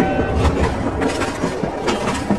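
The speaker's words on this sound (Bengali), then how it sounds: "আরে ট্রেনটা তো ওদিকেই যাচ্ছে" A train runs along a railway line with a steady rumbling, clattering roar that stays loud and continuous throughout, with no voices over it.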